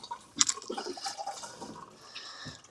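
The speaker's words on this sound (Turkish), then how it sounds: "Aynı pompa suyu çeker, geride basar abi." Hand pump of a marine toilet aboard a Safter 630 CC boat drawing in and pushing out water, heard as a close, irregular gurgling and splashing with a sharp transient early on, alone without voices.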